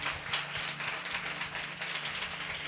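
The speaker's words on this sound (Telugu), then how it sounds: "గట్టిగా చప్పట్లు కొడతాం" A church congregation clapping together in steady rhythm, a dense wash of hand claps that continues evenly with a low musical hum underneath.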